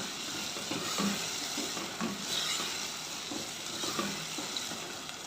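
Taro (arbi) frying in a pan crackles with a soft, even sizzle at moderate volume, broken by light stirring scrapes.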